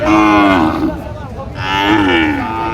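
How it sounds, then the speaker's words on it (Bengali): At a cattle market, Sahiwal cattle close by give two loud, deep moos, the second one rising after a brief pause. "দুটা গরু আছে"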